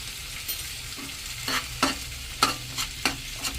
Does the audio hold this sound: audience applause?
no